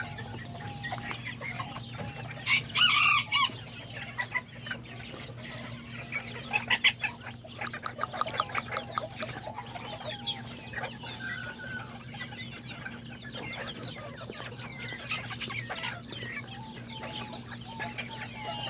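Hens and roosters, including a small bantam rooster, cluck while feeding outdoors, with a scatter of close, overlapping bursts over a steady low hum.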